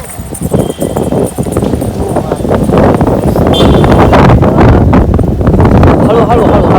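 Wind rushing and buffeting the microphone outdoors, a steady dense roar that holds through the whole stretch, with people talking over it.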